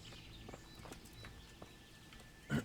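A horse in the video game Kingdom Come: Deliverance clip-clops softly at a distance in a steady walking rhythm, closing with a brief louder snort or whinny.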